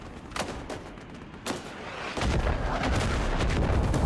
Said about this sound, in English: that freaking mortar going off and throwing my aim off